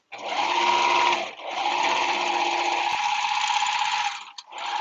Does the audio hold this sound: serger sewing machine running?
yes